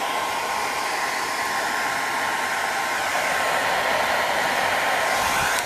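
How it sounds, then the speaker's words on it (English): Hairdryer blowing onto barbecue charcoal to get it lit, a steady loud broadband whoosh with a constant whine, continuous for the whole stretch and slightly louder near the end, no talking. "You use a hairdryer to get the charcoal going."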